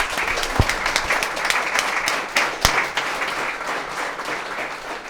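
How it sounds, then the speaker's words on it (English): An audience at a London branding panel discussion gives a steady round of applause, dense clapping with a few sharper nearby claps, sustained throughout without speech. "We can give him a round of applause."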